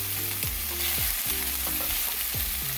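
Scallion and garlic sautéing on a low-medium flame for jerk shrimp rasta pasta, a steady close sizzle with a few soft stirring scrapes, alone without voices.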